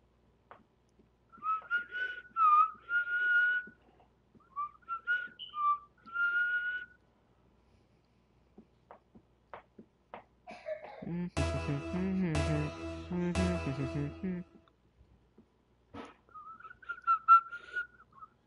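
A person whistles a bright, wavering tune in two phrases, pauses, then whistles again after a burst of loud, dense game noise midway through, all during a Rocket League session.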